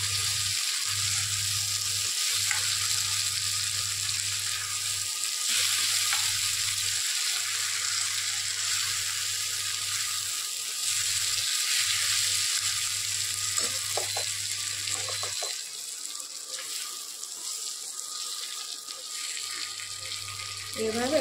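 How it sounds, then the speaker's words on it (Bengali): Banana flower and prawns frying in ghee in a pan are stirred, giving a steady close sizzle with intermittent scraping stirs and a low hum beneath, alone throughout. "এভাবে একটু ভালো করে নেড়ে নিলেই হবে। ঘিটা যাতে চারিদিকে হয়ে যায়।"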